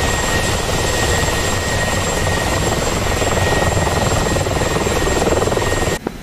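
Helicopter rotor and engine drone from the DCS combat flight simulator, a steady loud whir with a faint high whine holding throughout, cutting off abruptly near the end.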